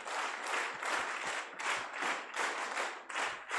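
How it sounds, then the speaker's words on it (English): An audience at an international physical education and sports conference claps together in a repeated counted rhythm, with bursts of applause rising and falling in regular groups, moderately distant and without talk. "Give a chair clap."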